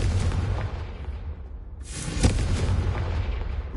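A Confringo fire spell blasts in the Hogwarts Legacy game, a loud booming explosion with a sharp crack partway through over a continuous rumbling roar, with no voices.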